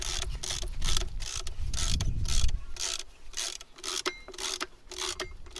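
Spring compressors being wound down on the front coil spring of a Ford Focus MK3: a steady series of quick ratcheting clicks, close and fairly quiet, repeating in an even rhythm with a brief mechanical rumble early on.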